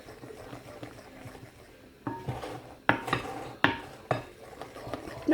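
A spoon scrapes and knocks around a bowl while jaffa cake ingredients are folded together, giving a series of sharp clinks and dull taps in the second half over a quiet kitchen background.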